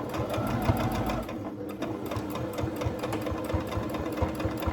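Domestic sewing machine running steadily while backstitching a dog T-shirt, a continuous close mechanical whir with rapid needle ticking throughout, briefly easing once before resuming.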